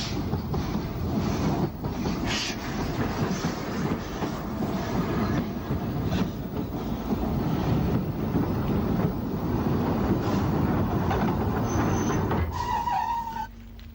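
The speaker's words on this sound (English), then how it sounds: "Whitwell comes off shed at St John's Road." Isle of Wight steam locomotive Whitwell coming off shed at St John's Road, a steady, heavy rail rumble with faint clattering that holds for most of the stretch before dropping away near the end.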